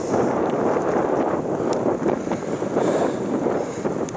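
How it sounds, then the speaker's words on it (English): Wind buffeting the microphone during a bike ride around islands, a loud continuous low rumble with gusty swells and no pauses. "The wind's being a bit excessive right now"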